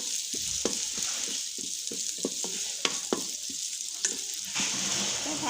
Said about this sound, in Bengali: এখন একটু হালকা হালকা করে একটু ভেজে নিচ্ছি